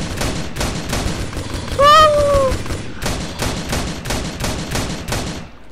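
Gunfire in the zombie survival game DayZ played through MTA, a burst of loud, close synthetic shots crackling in a quick rhythmic series, with a brief rising tone in the middle and no voices.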